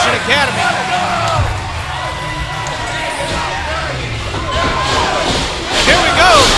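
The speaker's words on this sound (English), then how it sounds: "the crowd is going wild here at Eagle View Christian Academy" Wrestling crowd at Eagle View Christian Academy cheering and roaring steadily as Bryce Maddox walks out, with a commentator talking over the noise.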